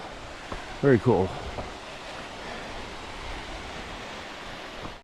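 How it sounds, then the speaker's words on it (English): A steady, broad rushing roar of a waterfall on the Pacific Crest Trail in Oregon fills the whole clip, with a brief spoken remark near the start. "A waterfall."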